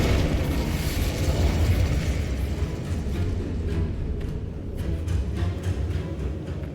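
A chain of spell blasts in Hogwarts Legacy combat, Incendio, Bombarda and Confringo, forming a loud continuous rumble of booms with sharper crackling bursts toward the end.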